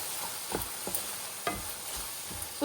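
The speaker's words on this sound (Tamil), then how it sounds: "வெல்லம் சேர்த்து இந்த வெல்லம் நல்லா மெல்ட் ஆகி வர அளவுக்கு நல்லா மிக்ஸ் பண்ணிக்கலாம்." Jaggery being stirred into a jackfruit mixture in a pan for jackfruit kozhukattai, a spoon scraping in a few separate strokes over a low, steady sizzle, close and fairly quiet.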